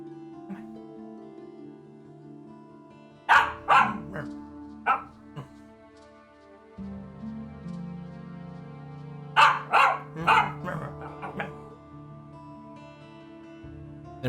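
A person imitates a dog with short bursts of barking in two clusters, close by, mixed with other voices talking throughout.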